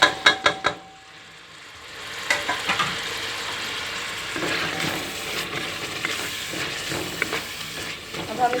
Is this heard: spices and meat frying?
yes